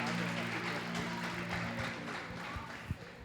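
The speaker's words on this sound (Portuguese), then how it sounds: "aplauda esse Deus com a forte salva de palmas" A church congregation at a Protestant Reformation service claps for God, a quiet but continuous patter of many hands over a low steady hum, with one sharper clap standing out near the end.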